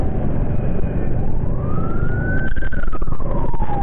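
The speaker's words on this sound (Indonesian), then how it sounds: "Woi, ambulan, woi." An ambulance siren rises and falls steadily over loud, continuous traffic rumble on a city street, sounding fairly close and prominent throughout.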